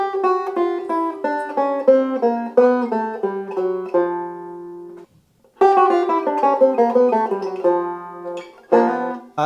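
Five-string banjo picking a bebop dominant line with chromatic enclosures, quick bright plucked notes in two phrases split by a short pause, ending on a strummed chord, played alone.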